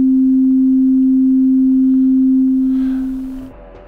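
A single polysynth note from the MUX software synthesizer holds as a pure, steady sine-like tone, then fades away over the last second.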